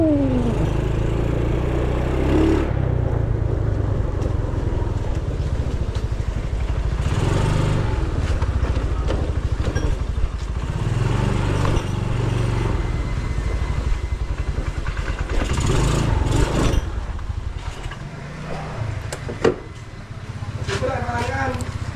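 A motorcycle engine runs at a steady idle, its low chugging continuous across the stretch, with occasional clatter and revs while people talk over it.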